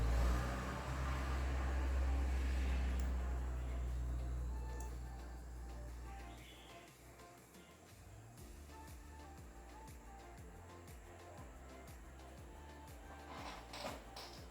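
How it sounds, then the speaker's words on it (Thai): A Lenovo IdeaPad Gaming 3 Gen 6 laptop's cooling fan whirs under benchmark load, a steady airy hum with faint tonal whine and a few small clicks, quiet and without speech. "หลังจากนี้ผมจะให้ฟังเสียงพัดลมด้วยนะครับว่ามันดังแค่ไหน"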